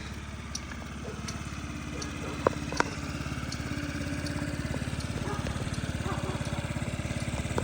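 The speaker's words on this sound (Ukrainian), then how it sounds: "в нього гарний економічний двигун інжекторний на водяному охолодженні" Small Honda Tact AF79 scooter with a fuel-injected, water-cooled engine idles steadily at close range, a fast even putter running throughout with a couple of sharp clicks early on.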